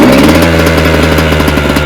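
Motocross bike engine idling steadily while warming up, a close, loud, even low throb with constant pitch and no revving, heard alone.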